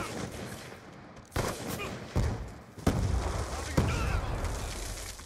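Ballista weapon gunfire in a video game, four sharp reports spaced roughly a second apart over a busy background of game noise and rumble.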